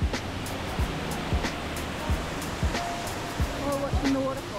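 An indoor waterfall inside an airport pours in a steady, broadband rush, with occasional footsteps or knocks and faint voices in the background.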